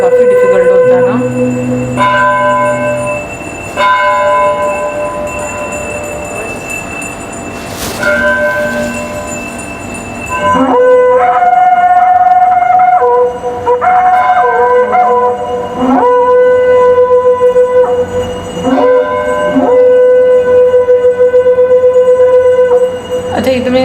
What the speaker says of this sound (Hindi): शंख बजाना काफी डिफिकल्ट होता है ना।